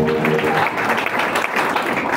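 A church congregation claps in sustained applause, a thick, even roar of many hands close by, with a brief voice heard at the start.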